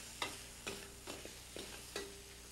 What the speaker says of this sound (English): Then you stir this up.